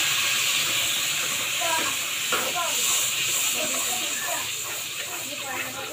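Masala tipped into hot oil where fenugreek seeds have turned red, for a stuffed brinjal curry, gives a loud, steady close-up sizzle and hiss that runs the whole time, with faint voice traces underneath.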